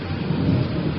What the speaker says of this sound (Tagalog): Halos malunod ng tunog ng ulan na tumatama sa mga dahon ng saging sa paligid.